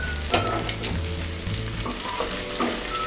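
Tomatoes sprinkled with salt fry in a pan for a prawn curry, a dense continuous sizzle with occasional soft stirring knocks, close and without talk.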